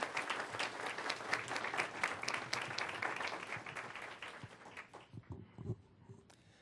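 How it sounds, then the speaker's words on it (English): A round of applause at a board of education meeting, a room of people clapping steadily before it thins into scattered claps and fades out. "we can still give a nice round of applause to Michaela Bird for this outstanding recognition"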